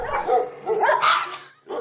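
Dogs barking and yipping at an animal pound that holds up to about 150 dogs, a loud, close burst of overlapping barks followed by one more bark after a brief lull.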